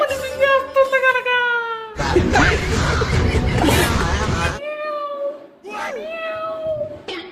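A cat meows in several long, drawn-out, falling cries, broken in the middle by a loud burst of noisy crowd sound before the meowing resumes.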